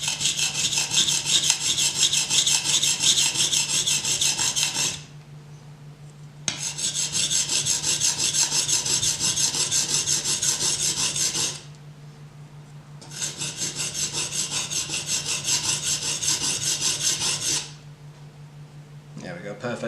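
A Gut knife is sharpened on a whetstone, with long continuous rasping strokes in three passes separated by brief pauses, close and loud.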